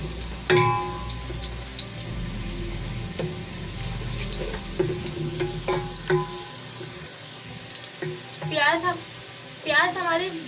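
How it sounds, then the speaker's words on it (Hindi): Sliced onions frying in hot oil for matar pulao, turning light brown: a steady close sizzle with stirring clinks and scrapes that fades toward the end, where a voice talks over it. "तेल गरम हो चुका है, अब इसमें हम प्याज डालेंगे। प्याज को लाइट ब्राउन करेंगे।"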